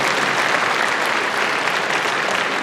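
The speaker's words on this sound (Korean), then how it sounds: "여러분 박수 한번 부탁드리겠습니다" Audience at a town hall meeting with citizens breaking into sustained, even applause, a loud wash of many hands clapping with no pauses.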